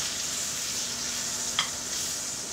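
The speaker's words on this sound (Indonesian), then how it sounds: "Kita kasih bawang putih. Kita biarin aja bawang putihnya" Garlic sizzles in a pan alongside frying steak, a steady close-up hiss of hot oil that continues without pause, broken once by a brief soft clink.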